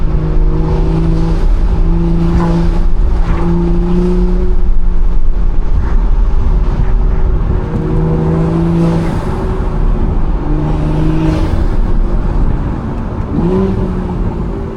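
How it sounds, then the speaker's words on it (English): A BMW B58 engine drones and surges as it accelerates, with a loud intake whoosh rising and falling in repeated pulls, close up. "Y'all want to hear some intakes back here?"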